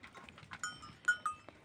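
Goats bleating on a farm, a few short harmonic calls around the middle and near the end, fairly quiet with light rustling and faint clatter between them.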